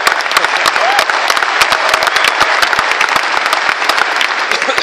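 A dense burst of applause from an audience at a press event introducing a Kentucky head football coach, many hands clapping loudly and continuously close by.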